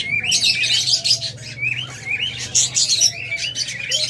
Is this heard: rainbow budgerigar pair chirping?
yes